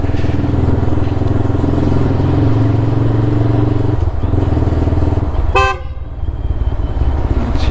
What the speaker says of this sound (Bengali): এই বিশাল হর্ন দিলে আমার নিজের মাঝে মাঝে নিজেরই বিরক্ত লাগে।